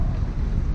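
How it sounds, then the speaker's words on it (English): Strong wind at a marina buffets the microphone in a steady, loud, low rumble, with no other sound standing out. "It is so windy in here"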